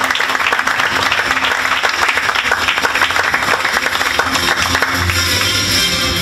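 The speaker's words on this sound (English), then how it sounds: "A round of applause please." Audience applause at the 2017 FISU World Conference closing ceremony as a principal receives a certificate of thanks on stage, a dense, loud, continuous clapping from a large hall crowd lasting several seconds.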